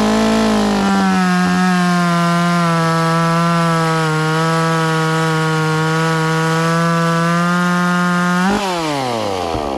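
Echo chainsaw with a modified exhaust and slightly advanced ignition timing cutting wood, a loud, steady, high-revving buzz held close for nearly ten seconds before the pitch dips and swings back up near the end.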